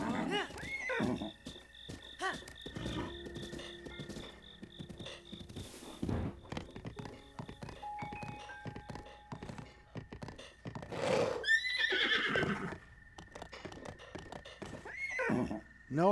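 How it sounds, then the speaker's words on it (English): Zelda's horse in Breath of the Wild neighs and whinnies several times with snorts and hoof thuds, loud and close, while a person talks over parts of it. "Daniel, I caught Zelda's horse."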